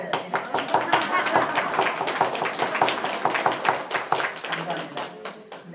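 An audience claps along during a cooking demonstration, with a steady run of close, busy claps that lasts several seconds while a voice speaks over it.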